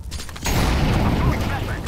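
An incendiary grenade going off in CS:GO, a loud whooshing burst of fire that starts abruptly after a short quiet moment and roars on, with a voice calling out over it.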